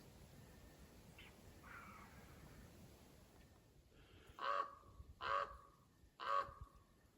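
A crow caws three times at a slow, even pace, somewhat distant against a quiet outdoor background, after a few fainter bird calls.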